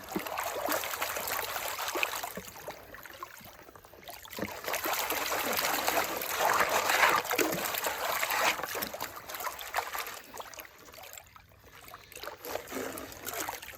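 Water sloshes and trickles in a gold pan as gravel is swirled outdoors, a soft continuous splashing that rises and falls in rhythmic waves.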